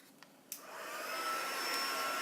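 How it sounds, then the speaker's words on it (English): A heat gun spins up to set a craft piece, rising from a couple of faint clicks into a steady, loud blowing roar that holds close to the microphone. "So this is going to get really noisy because now we need the heat gun to heat up."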